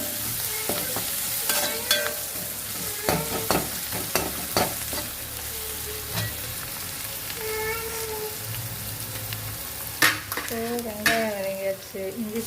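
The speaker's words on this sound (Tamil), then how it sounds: "வெங்காயம் வதங்கியாச்சு." Onions sautéing in a pan for a home-cooked meal: a steady sizzle with repeated scraping stir strokes, fairly close and unbroken by speech.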